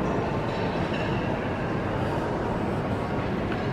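The Mallard steam locomotive being pulled at a railway museum in York gives a steady, dense rumble close by that runs unbroken throughout, with no voices heard.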